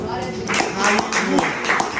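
Scattered clapping from a church congregation during a sermon, a handful of sharp claps spread across the moment, with speech-like voices continuing over and around them.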